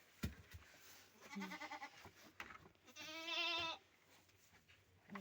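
Goats bleat nearby, two long, wavering cries a moment apart, with scattered shuffling and knocks between them.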